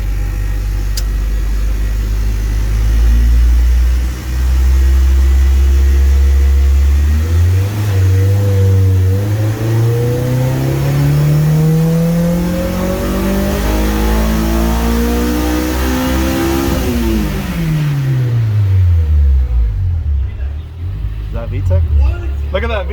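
A stock 2004 Honda S2000 with only an aftermarket muffler revs hard on a dyno, the engine note climbing steadily, jumping sharply as VTEC engages, then dropping off; loud and close, with voices talking over it.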